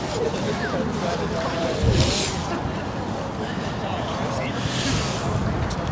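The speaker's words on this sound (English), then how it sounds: "wind is picking up here" Strong wind buffets a microphone outdoors at a snowy, very cold Tufts–Harvard game, a steady rushing roar with low rumbling gusts that swell around two and five seconds, while a voice talks faintly underneath.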